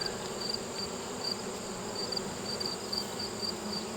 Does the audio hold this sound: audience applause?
no